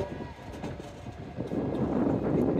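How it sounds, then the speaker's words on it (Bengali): A train waits to depart on a railway line through green countryside, its low engine rumble steady and building louder toward the end. "এই ট্রেনটা যাওয়ার উদ্যোগ নিয়েছে"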